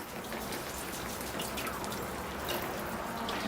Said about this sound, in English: it's time to give the tree a rinse now.